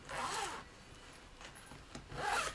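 Zipper on a back-to-school pencil case pulled open and shut, two distinct rasping zip strokes near the mic at start and end with a quieter fainter zip pass between them.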